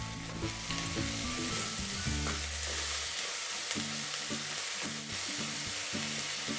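Onions, tomato and spices frying in a pan, a close, constant sizzle with intermittent scraping and stirring clatter and a low hum underneath, no voices.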